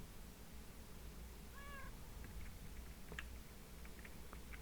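A Minecraft cat in the Dawncraft modpack gives one short meow, quiet over a steady background hiss, followed by faint clicks and taps.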